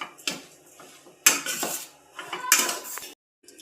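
Gram flour already roasted, with a bowl of grated coconut added, is stirred in a pan, giving close metallic scrapes and clinks of a spoon against the pan in three short bursts separated by quiet gaps.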